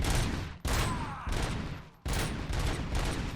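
Souped-up Auto 9 pistol from the RoboCop Rogue City video game fires in loud, rapid bursts, three sustained volleys of gunfire separated by brief gaps, close and dominant.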